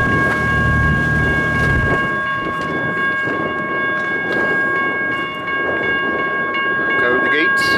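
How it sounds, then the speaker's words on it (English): An intermodal freight train rolls by close and loud, with a deep engine rumble fading into steady wheel and rail noise while a crossing bell rings throughout, a voice briefly heard over it. "That one coming intermodal, folks."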